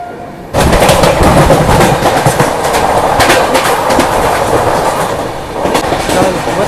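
The 12267 Mumbai Central to Hapa Duranto Express runs through Vasai Road station without stopping, a loud, close rumble with rhythmic wheel clatter after a quieter start.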